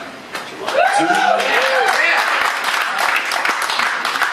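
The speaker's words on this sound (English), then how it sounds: "Anytime you want to applaud for them, you're welcome to just jump right in" Audience applause for the band at a radio Q&A, a steady wash of many hands clapping that swells after a quiet start and holds loud throughout, with a few voices and chuckles mixed in.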